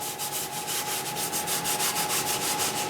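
A hand steadily rubs down a wing insignia stencil on the riveted wing of a Cessna, a close, continuous scuffing with quick, even back-and-forth strokes.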